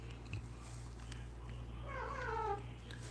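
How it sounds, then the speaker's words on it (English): A pet cat gives a short, soft meow partway through, faint against a steady low electrical hum indoors. "My cat."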